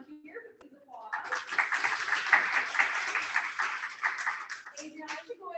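A small group at an end-of-camp awards gathering claps for a raffle and award name, a few seconds of moderate, loose clapping with some cheering voices mixed in, a lone voice talking before and after.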